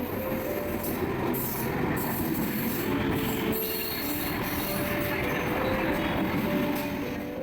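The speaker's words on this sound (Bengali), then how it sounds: "অন্যান্য দিনের মতোই আজও ট্রেন প্রায় এক ঘন্টা লেটে ঢুকলো স্টেশনে" A passenger train pulls into a station, its carriages producing a continuous loud rumble and rolling clatter with faint wheel squeal throughout.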